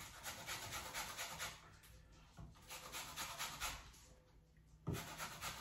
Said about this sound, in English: I'm going to get the zest of this lemon, probably about 1 teaspoon